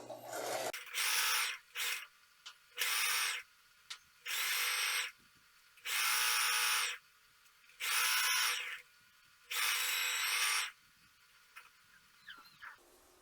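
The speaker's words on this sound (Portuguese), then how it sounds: "E nós vamos começar a nossa costura com retrocesso no início e retrocesso no final." A sewing machine stitches a zipper, face to face, for a crossbody bag, backstitching at the start and end. Seven distinct whirring bursts of about a second each are separated by short pauses, with faint handling clicks between them.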